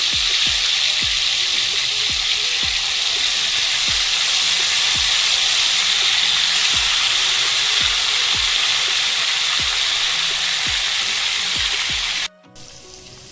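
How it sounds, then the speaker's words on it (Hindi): Marinated Afghani chaap sizzling and frying steadily in a hot pan, a loud continuous crackle with soft periodic bubbling pops, cutting off abruptly near the end. "ये जो चाप इसमें हमने मैरिनेट करने के लिए रखे थे इसमें से निकालकर इसमें तलने वाले हैं"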